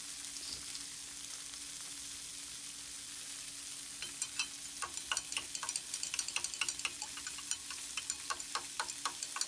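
Food cooking in a pan with coconut added, a steady low sizzle that turns into quicker crackling and popping partway through, fairly quiet and close with no talking.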